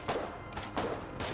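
Gunfire in the war video game Foxhole, with three sharp shots spaced roughly half a second apart. They are faint and somewhat distant, with no talking.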